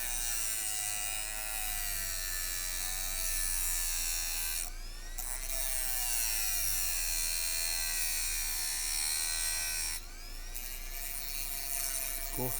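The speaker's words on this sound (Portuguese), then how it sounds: "Vou desgastar um pouco a ponta aqui para ela ficar mais grossa" A mini rotary grinder wears down the tip of a small part during phone repair work. It makes a steady, close, high-pitched buzzing whine with two short breaks in the grinding.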